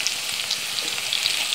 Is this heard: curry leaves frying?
yes